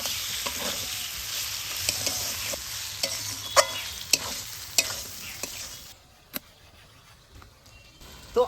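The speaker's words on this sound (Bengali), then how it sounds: "এবার মশলাগুলো ভালো করে নাড়ি চাড়িয়ে নিব" Ground cumin, coriander and dried chilli paste with red chilli powder fry in a pan for a mutton skin dish, a close steady sizzle with repeated spoon scrapes and taps against the metal, dying to quiet near the end.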